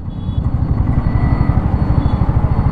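A 2024 Royal Enfield Bullet 350 thumps along in first gear, its single-cylinder engine beating in a steady, loud, rhythmic pulse close by.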